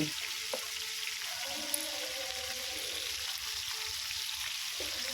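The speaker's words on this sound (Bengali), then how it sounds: "এপার ওপারে একদম লাল হয়ে ভাজা হয়ে গেছে" Rupsa river fish frying in hot oil on a gas stove, a steady close sizzle and crackle that runs continuously, with a couple of faint clicks and no talking.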